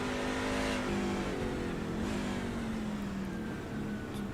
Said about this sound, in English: Now y'all can hear some engine noise.